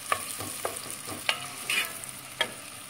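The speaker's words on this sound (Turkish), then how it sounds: "Şöyle soğanlarım kavrulsun." Onions sizzle quietly as they fry in a pan while a utensil stirs and scrapes them in irregular taps.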